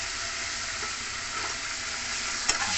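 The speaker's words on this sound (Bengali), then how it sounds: "সবগুলোকে ভালো করে একটু কষিয়ে নেব।" Vegetables and sauce for a tofu stir fry sautéed in a pan with sugar, vinegar and roasted cumin powder: steady close sizzle with scraping stirs and a sharp clink near the end, no talking.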